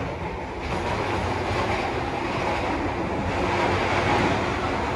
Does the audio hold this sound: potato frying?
no